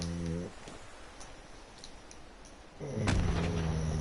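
A big explosion or fire blast in the Fallout 76 video game, heard as a muffled boom and crackle beneath a speaking voice, with a louder burst near the end.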